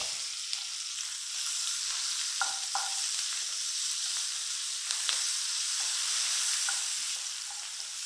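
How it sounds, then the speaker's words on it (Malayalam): Two onions being sautéed in oil in a pan for a matar paneer curry, a steady close sizzle with occasional stirring scrapes, no voices. "ഏകദേശം ഒരു മിനിറ്റോളം നമുക്കൊന്ന് വഴറ്റിയെടുക്കാം"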